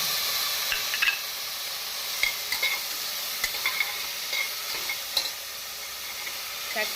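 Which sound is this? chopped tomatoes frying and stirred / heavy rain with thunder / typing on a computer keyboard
chopped tomatoes frying and stirred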